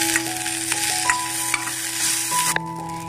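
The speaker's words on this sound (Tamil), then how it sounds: "இதை லைட்டாக சாட்டே பண்ணிக்கோங்க" Chicken seasoned with salt and cumin sautéing in a pan, a steady bright sizzle with occasional stirring clicks and scrapes, close and continuous with no talk.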